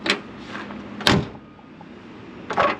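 Pickup truck doors closing outdoors: a soft thump near the start, a sharp solid slam at one second, then another door shutting near the end, close and fairly loud with quiet gaps between.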